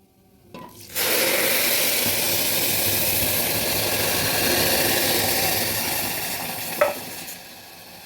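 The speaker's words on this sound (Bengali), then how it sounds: "এবার দিয়ে দেব জল" Water rushes steadily into rice and ghee in a pressure cooker, a loud continuous pour lasting several seconds before easing off, with no voices.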